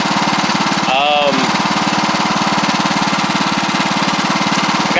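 A Craftsman LT1000 lawn tractor with a Briggs Intek engine runs steadily nearby, its loud rhythmic chugging continuous throughout, with a brief voice heard over it early on.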